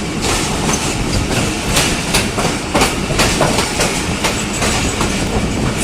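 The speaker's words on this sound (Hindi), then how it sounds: "बिल्कुल खाली हुई पड़ी है ट्रेन। रही हमारी सर सैयद एक्सप्रेस।" The Sir Syed Express passenger train passes close and loud, its wheels beating a steady clickety-clack over rail joints with a continuous rumbling roar.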